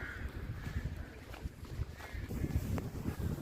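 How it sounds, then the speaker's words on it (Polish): Steady wind blowing on a hilltop at Bielsk Podlaski, a continuous rough rushing buffet with gusts, loud and close on the microphone, no talking. "Wieje. Zimno, jak to na wschodzie."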